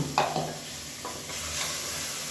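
Tomatoes fry in oil with spice powder, giving a close, steady sizzle. A few quick stirring scrapes come at the start.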